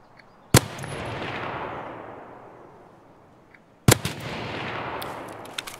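Two sharp, loud gunshots crack in the Escape from Tarkov video game, about three seconds apart. Each is followed by a long rolling outdoor echo that fades slowly, with faint clicks near the end.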